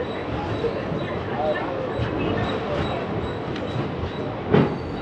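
The Sabari Express begins moving out of Coimbatore station, a low rumbling of wheels and carriages with faint metallic squeals and clicks, steady and moderately loud in the background.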